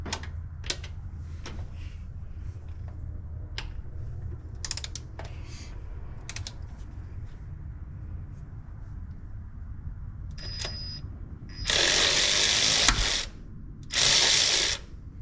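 Quiet clicking and ratcheting of a hand wrench during an engine swap on a square-body Chevy C10 big block, with sparse ticks followed by two loud, harsh bursts of noise near the end.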